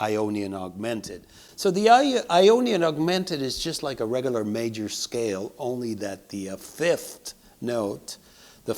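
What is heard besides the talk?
No everyday noise stands out behind the speech.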